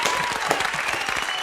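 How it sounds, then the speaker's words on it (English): A studio audience applauds a guest on a talk show, giving a dense, loud, sustained round of clapping with no voices over it. "Let's give tonight's guest another round of applause."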